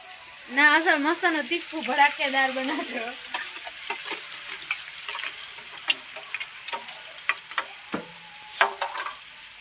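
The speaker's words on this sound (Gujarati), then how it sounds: "તેલમાં ડુંગળી નાખીએ" Onions sizzle in hot oil for a spicy vegetable curry, a busy near frying crackle with stirring clatter and scattered sharp ticks, while a voice talks over the first few seconds.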